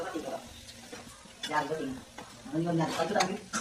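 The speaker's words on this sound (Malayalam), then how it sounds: "ജാതിക്ക മിക്സ് ആക്കിക്കൊണ്ടിരിക്കുകയാണ്" Thick nutmeg pickle is stirred and scraped in a pot in short bursts, close up, with a voice speaking intermittently over it.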